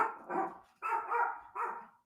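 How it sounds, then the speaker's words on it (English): An excited dog barks at something outside, giving three long, rough bursts separated by short pauses, fairly close and loud with no talking. "my dog is getting excited about something outside"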